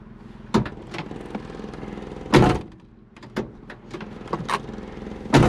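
Several solid thunks and clicks of a car door being opened and shut, close by, with quieter mechanical clicks in between.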